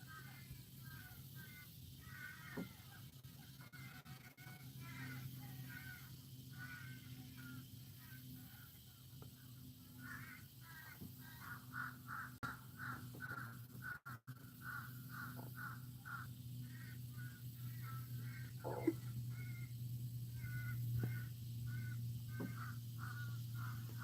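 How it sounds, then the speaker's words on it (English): Crows caw repeatedly outside, a long series of harsh calls at a moderate distance, some overlapping, over a steady low hum for about twenty seconds. "someone's got them crows pissed off out there"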